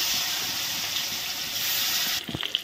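Rohu fish frying in hot oil with turmeric, a steady, moderate hiss and crackle of sizzling that eases near the end, with a few soft knocks as the pieces settle and no voices.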